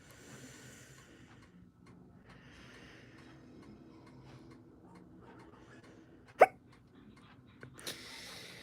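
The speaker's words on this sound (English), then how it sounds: "Oh my god, I got the hiccups. It hurts." A single sharp hiccup stands out over a quiet, faintly noisy room, followed a moment later by a softer sound.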